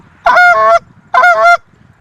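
Canada geese honk in two loud, close, drawn-out calls separated by a short pause, each call a bright nasal blast carried over faint background noise as the birds approach in flight.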